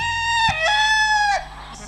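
A man imitates a rooster crowing in a long, loud, nasal cock-a-doodle-doo that rises, holds and falls, sung close by in a devotional bhajan storytelling setting.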